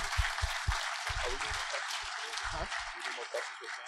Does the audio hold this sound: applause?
yes